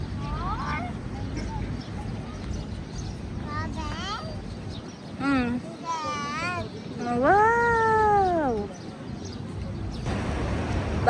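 At a park, a cat gives a string of meows that grow longer and louder, ending in one drawn-out cry, while voices chatter in the background.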